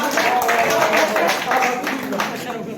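Applause welcoming guests at a ceremony, a sustained round of clapping from a crowd heard close and fairly loud, with a voice carrying over it.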